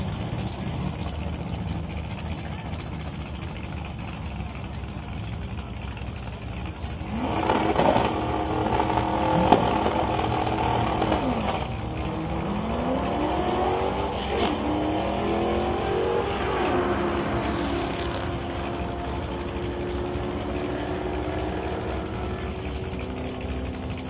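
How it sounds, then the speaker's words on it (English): A big-block AAR Cuda drag car at a drag-racing event, its engine idling with a low rumble before a loud surge of revving and hard acceleration, followed by shifting engine tones that fade back toward a steady background roar. "This AAR Cuda in the right-hand lane is running a big block in it."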